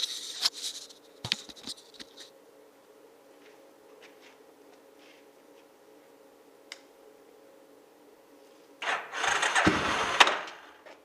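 Engine of a 1988 Yamaha Terra Pro ATV, a junk machine, sputters and catches near the end after several brief starter bursts and clicks, building into a loud, rough roar with a steady hum underneath throughout.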